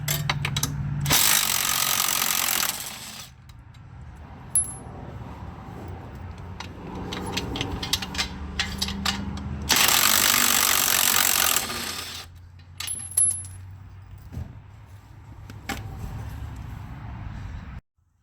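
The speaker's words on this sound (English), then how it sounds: "we're going to take our 18 millimeter socket and our 18 millimeter wrench, and we're going to remove the bolts on the passenger side" Mechanical clicking and clanking as an 18 mm socket and wrench loosen passenger-side rack and pinion bolts on a Dodge Grand Caravan, with two loud broadband bursts of harsh noise and scattered sharp ratchet-like ticks throughout.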